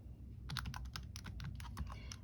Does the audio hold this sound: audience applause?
no